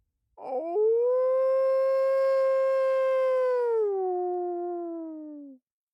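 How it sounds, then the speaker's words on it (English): A single long, clear wolf-like howl rises, holds steady for several seconds and then slides down before ending, loud and alone against silence. "The howl was the song a wolf would use to call its comrades, to chase and corner a human."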